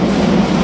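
Train running on rails, a steady low rumble with a continuous, even roar and no distinct clacks, heard close by for under a second.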